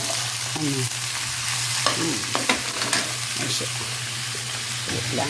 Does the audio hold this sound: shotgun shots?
no